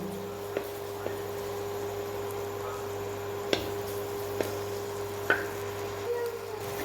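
Gram flour (besan) roasts in a pan with a low, steady sizzle, broken by a few sharp ticks and scrapes as it is stirred, close up and with no talking.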